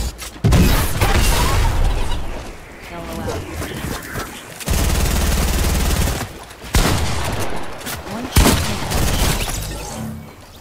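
Launchers fire in Fortnite, with explosions, bursts of gunfire and shattering in dense, loud volleys that come in waves across the fight.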